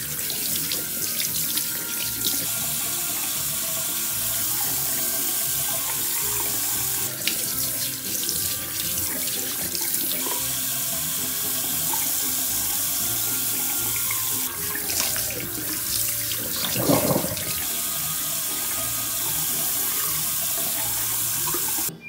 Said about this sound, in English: Today we are gonna do a preliminary watering for Choco, Mocha, and Coco.